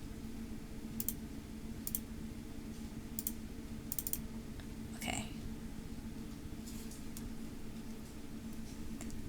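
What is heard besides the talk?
typing on a computer keyboard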